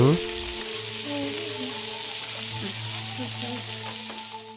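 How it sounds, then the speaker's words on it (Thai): Red ants and their eggs roast in a pan over low heat, a steady, close crackling sizzle that runs unbroken throughout, with faint tonal sounds in the background. "นำมดแดงลงคั่วใช้ไฟอ่อนๆ อย่าใช้ไฟแข็ง"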